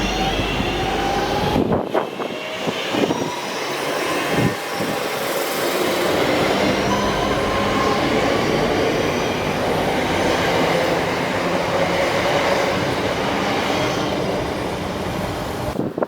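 A train rumbles loudly and steadily as it rolls into Erdington station on the Cross City Line, wheels clattering on the rails and a low roar filling the background.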